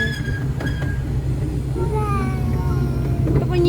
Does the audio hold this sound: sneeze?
no